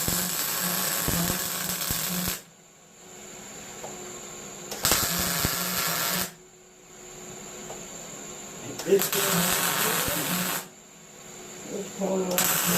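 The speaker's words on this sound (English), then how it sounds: "We're going to put some real quick tack welds on them." Three bursts of welding buzz and crackle on metal legs, each lasting a couple of seconds, with quiet gaps between them and muffled voices and handling noises in the background.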